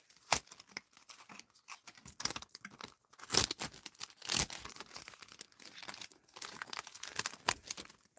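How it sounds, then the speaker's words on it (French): Sheets of embossed, textured paper are handled, giving a series of crinkles and rustles with a few sharper crackles, quiet and close. "On a le papier embossé."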